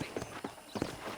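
Horse hooves clip-clopping in Red Dead Redemption, a few quick uneven hoof strikes close by on the ground, with no talking.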